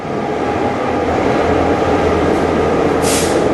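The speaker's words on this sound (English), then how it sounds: "train pulling up." A Kuranda Scenic Railway train in Queensland, Australia pulls up close and loud with a steady low mechanical drone, and a brief hiss of air brakes releasing near the end.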